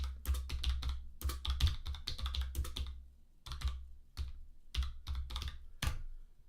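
Keys clatter on a computer keyboard in quick irregular bursts with brief pauses as a terminal command to install Synaptic is typed on Ubuntu 17.10, crisp and close with no voices.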